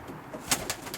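Roller pigeons inside a kit box giving soft, low coos over a faint background hush, with a few brief sharper flutters near the end, quiet and close.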